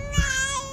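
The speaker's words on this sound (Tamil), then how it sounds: "என்னடி அங்க குழந்தை அழுவுற சத்தம் கேக்குது?" An infant cries in a drawn-out, wavering wail, steady and fairly close, with a brief low thump near the start and no speech over it.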